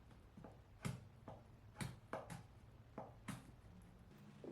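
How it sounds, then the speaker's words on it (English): A knife roughly slices lemongrass on a cutting board, giving about eight sharp, irregular cuts that sound faint and close in an otherwise quiet kitchen. "I'm just roughly slicing the lemongrass."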